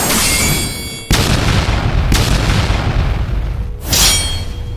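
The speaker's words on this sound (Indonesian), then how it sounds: "Ledakan energi dan suara tubuh terpotong memenuhi lembah" Deep booming impacts of an energy explosion effect in a battle narration, three sharp hits roughly a second apart, each followed by a rumbling noisy tail, loud and close.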